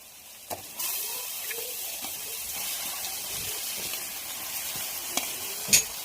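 Chicken drops into a pan of roasted fenugreek seeds and sizzles loudly and steadily, with a sharp clatter near the end, no voices.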